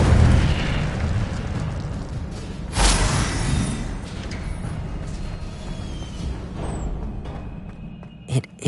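An Incendio fire spell explodes in the Harry Potter game Hogwarts Legacy, a loud burst and whoosh of flame that fades into a rumbling tail, with a smaller thump near the end.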